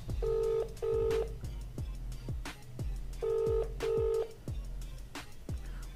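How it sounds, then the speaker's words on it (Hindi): A phone call that goes unanswered rings out over loudspeaker, with two pairs of ringback tones and thumping clicks in between, fairly quiet and with no talk. "उठा भी अपने बाप का फोन जोगिंदर"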